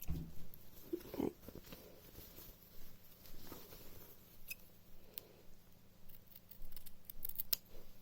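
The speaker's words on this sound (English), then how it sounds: "I'm just going to clip the corners." Scissors clip the corners of fabric for children's pants in a few quiet, close snips, mixed with faint handling rustles, with no talk.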